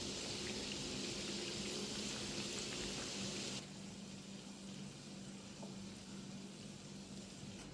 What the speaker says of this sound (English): Carefully place the donuts in the hot oil and flip them once they turn golden brown